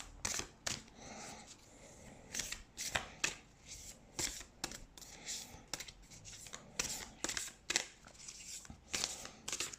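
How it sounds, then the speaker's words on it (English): Oracle cards being shuffled by hand, a steady run of crisp papery riffles and slaps repeating throughout at close range, with no talking. "I always shuffle my cards like this or like this"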